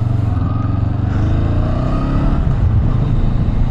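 A Honda CL500 motorcycle engine runs with a loud, close, throbbing low rumble, pulsing evenly and rising slightly as if revving, with no voices over it.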